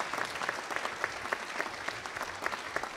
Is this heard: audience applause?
yes